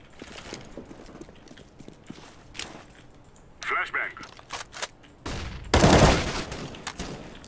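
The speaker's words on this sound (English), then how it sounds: "Gdje je taj sa VP-om što ga čujem kako puca?" An AWP sniper rifle firing in Counter-Strike: Global Offensive, a sharp loud shot near the end after scattered game noises and footsteps, with people talking throughout.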